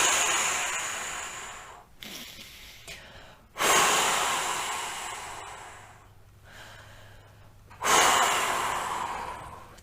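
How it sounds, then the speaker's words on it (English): Three deep cleansing breaths, each a long, close rushing inhale followed by a slow, fading exhale, evenly spaced and alone without talk. "let's take 3 deep cleansing breaths"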